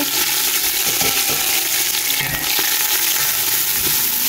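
Chopped onions, red chilies and curry leaves fry hard in hot oil, giving a loud, dense, continuous sizzle with faint stirring clicks underneath.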